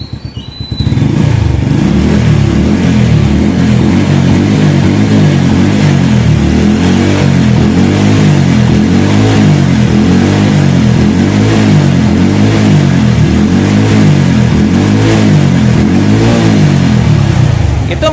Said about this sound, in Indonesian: Ini saya coba gas-gas ya, kalau nggak percaya ya, saya gas-gas nih lihat.